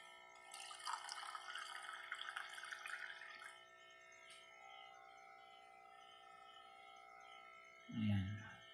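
Water pours into a bowl of empanada dough mixture for a few seconds, a soft steady trickle that tapers off, followed by a brief low thump near the end; no talking.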